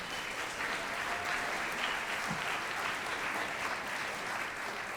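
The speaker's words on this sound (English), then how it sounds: "Let's give them another round of applause." An audience at an all-district orchestra concert applauds middle school orchestra students, a soft, continuous, even patter of many hands heard from a distance.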